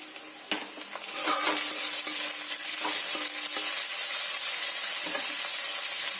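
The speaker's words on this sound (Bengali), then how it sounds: "রসুন দেওয়ার পরে খুব ভালো করে ভেজে নিয়েছি।" Onions and crushed garlic sizzle steadily in a hot pan, a continuous bright frying hiss with occasional stirring scrapes, no voices.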